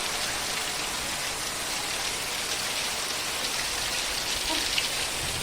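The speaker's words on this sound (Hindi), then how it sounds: "हाँ देखिए आप बारिश, ये देखो" Steady, heavy rain in Himachal Pradesh pours down and patters on surfaces, a continuous dense hiss with no voices.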